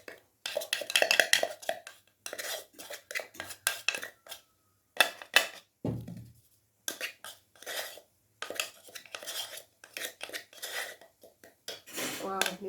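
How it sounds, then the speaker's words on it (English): Spice powders are mixed in a grinder jar, heard as repeated shaking bursts of dry rattling and clinking with short pauses between them. "So I'm just mixing this in this grinder."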